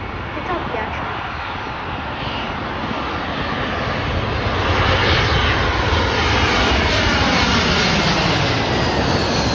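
A United Airlines Airbus A319 from Cincinnati passes at O'Hare airport with a loud, sustained jet engine roar that fills the whole stretch, swelling slightly toward the end.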